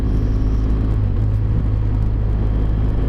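A BMW 1200cc motorcycle engine runs steadily on the road in summer heat, a low continuous rumble with wind roar, even and unbroken throughout with no voices.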